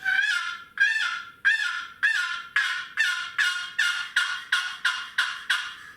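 Twelve sharp turkey yelps scraped on a wooden box call, each a raspy two-note rasp, repeated at a steady, slightly quickening rhythm, loud and close with no talking.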